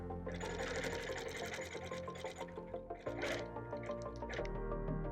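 A sewing machine stitches a bird panel quilt with a steady, fast mechanical whir and rattle, running continuously and close up.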